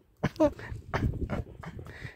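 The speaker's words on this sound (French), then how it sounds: "Un chien. Un chien." A dog close by giving a few short whimpering yelps in quick succession, with a voice speaking quietly between them.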